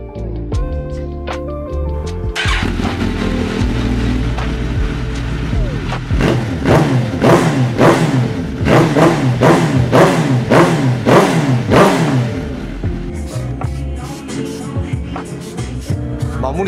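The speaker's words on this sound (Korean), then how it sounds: "드디어 이제 굴러가는 오토바이가 만들어졌네요." A repaired motorcycle engine cranks, catches and then revs repeatedly in sharp rising bursts, loud and close, settling back toward idle between throttle blips.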